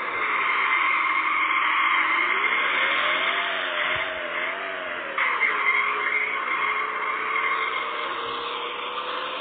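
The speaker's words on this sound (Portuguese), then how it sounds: "Dando borrachão, dando borrachão." A car drifts in a Russian classic car simulator game, a loud continuous tire squeal with a wavering engine drone underneath, sustained over several seconds with brief dips as the slide shifts, no talking.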